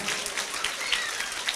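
Children clapping together at a church celebration, the final day of a vacation Bible school event, with a steady, dense wash of applause held at an even level throughout.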